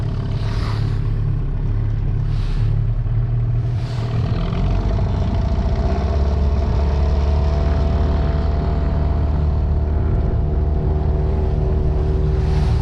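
New Sharmax S outboard boat motor being run in on the water, a loud, steady, close engine drone that holds continuously as it is throttled up toward full speed.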